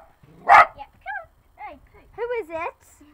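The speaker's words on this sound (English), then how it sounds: "It's a sausage dog" A dachshund gives a few sharp barks and yelps at a house gate, close and loud, spaced irregularly with short pauses between them.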